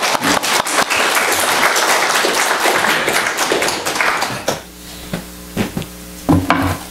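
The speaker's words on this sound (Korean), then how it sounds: "그러면 이제 명예 박수." A church congregation applauds during a Sunday worship service: dense clapping for about four and a half seconds, then breaking off into a few scattered claps and taps.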